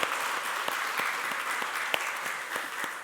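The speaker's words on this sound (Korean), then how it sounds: "우리 하나님 앞에 감사의 박수 한번 드릴까요?" A church congregation at a Sunday worship service claps in thanks, a soft, steady wash of applause with a few sharper individual claps standing out, moderately distant and without speech.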